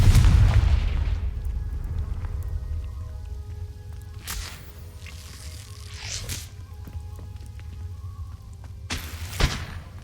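A Confringo spell explosion in the video game Hogwarts Legacy bursts with a deep booming blast at the start, followed by fainter whooshing impacts and swishes over a low rumbling background.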